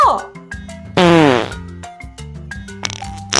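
A close, loud voice imitates fart sounds with buzzy, sputtering bursts and one long rasping blast partway through, during a Korean children's storytelling of a boy who becomes a stage star by farting.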